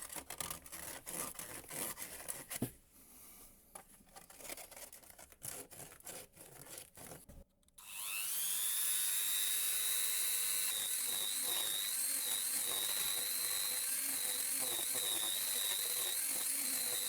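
A broken PVC drain pipe is worked on up close: first scattered scratchy rubbing and tapping, then a power tool spins up into a loud, sustained high-pitched whine that holds steady until the end.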